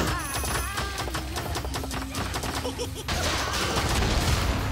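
A bomb blows up in the video game Kung Fu Strike, heard as a dense run of sharp blasts and crackling impacts that turns into a loud, sustained roar near the end.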